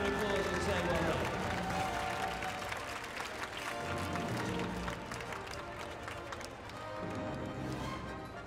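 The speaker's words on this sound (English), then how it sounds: "Let's give them a massive round of applause and say well done." A crowd at a charity pro-am event claps for the winning team, a broad rattle of applause that rises, dips slightly in the middle and swells again, with some voices mixed in.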